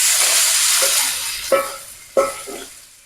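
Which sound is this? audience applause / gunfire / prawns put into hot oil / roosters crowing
prawns put into hot oil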